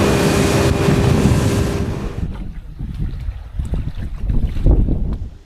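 Strong wind gusts at a waterside campsite buffet the microphone with loud rumbling roar, easing midway to a softer, fluttering blow with occasional lapping water.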